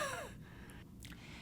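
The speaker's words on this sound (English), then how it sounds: "a way of taking a deep breath in and then expelling that air fast" A deep breath drawn in is followed by a quick, forced huff of air pushed out, in a single close breathy sequence with no talking, as in an airway-clearance huff cough.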